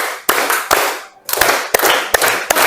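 Loud unison clapping from a class running a rhythmic clap routine, sharp group claps in a patterned beat broken by a short pause partway through.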